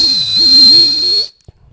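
A single loud, steady whistle blast, as used in signalling drills, holding for over a second with a slight wavering pitch, then cutting off into near silence.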